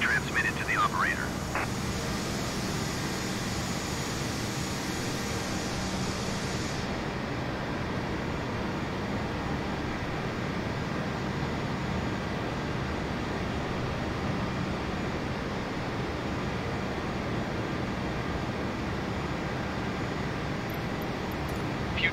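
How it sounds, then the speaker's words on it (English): An Airbus A320 sits in a flight simulator game during pushback at Shanghai Pudong, with a steady low engine drone and voices of radio exchanges over it. "Airbus Alpha Sierra X-Ray 320 requesting pushback tug to steer the aircraft to the right"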